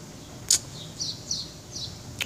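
Outdoors, a bird gives a few short, high chirps, spaced irregularly and moderately close over a quiet background.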